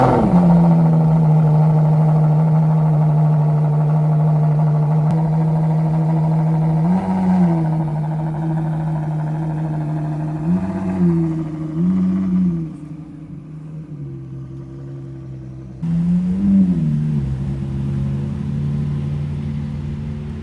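A Ferrari SP3 supercar on a Toronto street at night, its engine holding a loud, steady drone with several brief revs rising and falling as it drives, close by and without talk.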